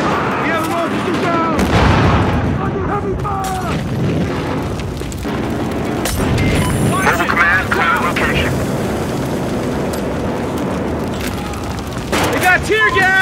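Gunfire and explosions in the video game Battlefield Hardline on the Growhouse map, with M416 rifle fire; loud, dense bursts and booms mixed with radio chatter and voices throughout.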